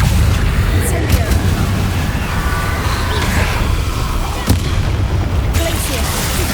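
Incendio fire spell cast in Hogwarts Legacy, a steady roaring burst of game effects with a few sharp booming hits, continuous at moderate loudness over a busy background.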